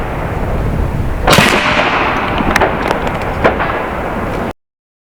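Several sharp cracks from an AEA Zeus .72 caliber air rifle striking a concrete house foundation block, loud and close against steady outdoor hiss, the first shot strongest and a few lighter pops following before abrupt silence.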